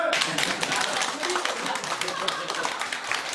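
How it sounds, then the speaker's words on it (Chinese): An audience at a piano press event claps in scattered, moderately loud applause for a few seconds, mixed with speech. "大家掌声！"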